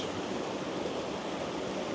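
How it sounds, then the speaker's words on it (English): Water crashing over rocks at an outdoor painting spot, a steady broadband rush of moving water that holds constant and fairly loud throughout, with no voices. "the exciting element of this painting for a lot of people, and myself included, is the water crashing over the rocks"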